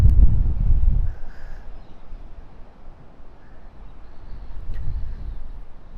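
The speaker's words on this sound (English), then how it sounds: "If you can hear a lot of wind noise in the background" Low wind buffeting hits the microphone in gusts at a very windy spot, strongest at the start and again later, with faint distant bird calls in the background.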